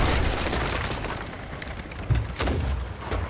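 Ship cannons firing during a naval battle in the video game Sea of Thieves: several deep booms over rushing sea and wind noise, with sharp blasts around the second and later half, moderately loud, without talk.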